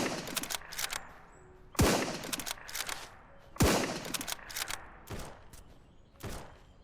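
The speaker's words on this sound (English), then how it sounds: "I hear a lot of gunshots." Gunfire in a zombie apocalypse video game, several sharp loud shots and short bursts cracking at irregular intervals, with quieter rattling shots between the heavier reports.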